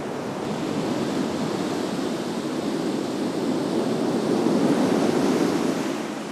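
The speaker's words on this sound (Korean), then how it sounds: "이어지는 파도의 연주 소리." Waves on the Portuguese coast in winter wash steadily ashore, a continuous broad rushing surf that swells slightly louder toward the end, with some wind noise and no voices.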